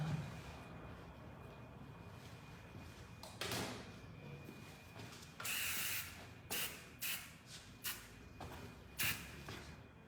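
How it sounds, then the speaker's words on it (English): Hairspray hisses onto a man's short haircut in a longer blast followed by several short close bursts, with quieter handling sounds before them. "Hairspray works quite well for men because one, it's quite easy to do"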